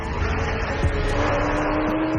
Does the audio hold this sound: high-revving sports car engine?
yes